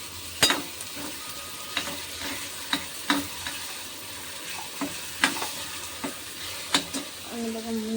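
A spoon stirs fried onion and chopped tomatoes in a pan over a soft sizzle, with sharp scraping clacks every half second or so and no one speaking.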